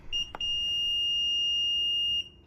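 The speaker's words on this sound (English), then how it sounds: "And you'll hear a beep." A single sustained high-pitched electronic beep from a Kwikset SmartCode 888 keypad lock sounds for about two seconds, close and loud, preceded by a brief chirp and a click.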